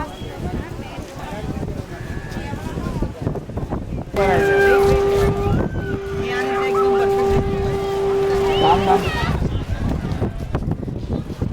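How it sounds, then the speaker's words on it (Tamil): Strong wind buffets the microphone at the seashore at Dhanushkodi, a steady loud rumble that runs throughout, with a sustained horn-like tone sounding partway through and a voice talking in the middle. "காற்று அப்படியே அடிச்சிட்ருக்கு"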